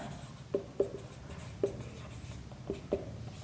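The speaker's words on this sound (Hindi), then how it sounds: "छोटा छोटा लिख रहा हूँ" A pen writing on paper during a handwritten maths lesson on linear programming, a few faint sharp scratches and taps spaced irregularly over a quiet room hum.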